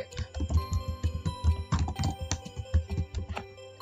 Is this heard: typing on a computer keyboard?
yes